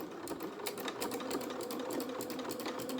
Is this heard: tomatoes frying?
no